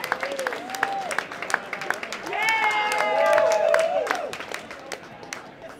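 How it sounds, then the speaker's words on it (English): Audience applause at an event honoring the first five women in the San Francisco Fire Department, steady clapping mixed with crowd noise while voices speak and call out over it, swelling in the middle before easing off. "So give Eileen a big round of applause."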